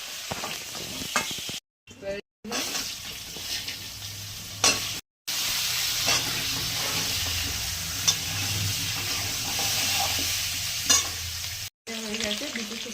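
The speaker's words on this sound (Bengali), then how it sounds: "একটু হলুদ দিলাম, সিমটা একটু ভালো করে ভেজে তুলে নেবো" Broad beans frying in hot oil with turmeric, a loud steady sizzle with scraping stirs throughout, broken by a few short cuts.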